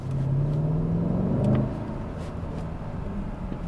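A 2026 Mercedes GLS 580 accelerates hard, its engine rising to a steady rumbling roar under road and wind noise from inside the cabin, with no voices.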